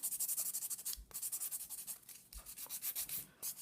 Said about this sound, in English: I'm going to use my file, my fine file, and I'm going to start going along to make some rough edges on my natural nail